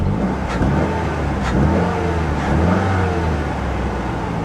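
A Saturn Sky sports car with a manual gearbox and its check engine light on idles in a salvage yard, a steady, fairly loud low engine drone with faint passing whooshes and no talking.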